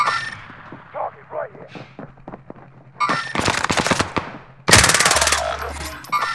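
Gunfire in Call of Duty Modern Warfare: scattered single shots, then loud sustained automatic bursts with sharp impacts, the heaviest volley near the end. A voice talks between the first shots.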